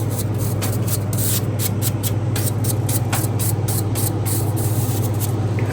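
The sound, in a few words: spraying WD-40 lubricant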